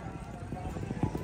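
Horse hooves clip-clop in quick, uneven beats at an outdoor tent pegging event, heard under a loud announcer's commentary.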